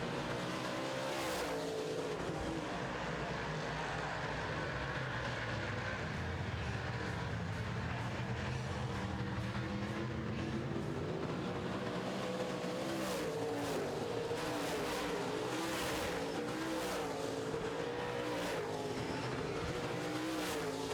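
Modified race cars roar around a track in a feature race, a continuous loud blend of engines rising and falling as cars pass, heard from a distance with crowd-like ambience.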